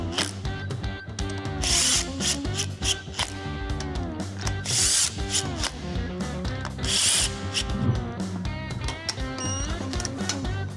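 ARP head bolts being torqued on a Ford 460 big-block engine, with rhythmic ratcheting clicks and metallic tool sounds in quick repeated strokes, close and fairly loud, broken by short pauses.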